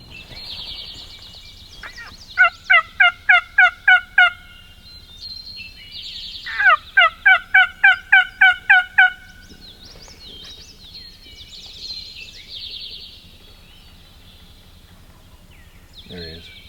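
A wild turkey gobbles twice in big woods, each call a rapid rattling burst of notes well off in the distance, with faint bird calls and quiet outdoor ambience between.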